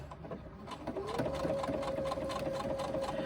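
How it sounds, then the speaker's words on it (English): A sewing machine back stitches through threaded fabric, its motor whirring steadily and close, picking up speed after a brief start and running continuously. "I'm going to back stitch a little bit because it's not going to be noticeable with this threaded fabric"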